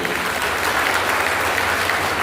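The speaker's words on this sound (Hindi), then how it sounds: "जोरदार तालियां आप एक बार बजा दें" A large crowd at a religious program in Pune claps steadily and loudly, dense applause filling the whole moment without pause.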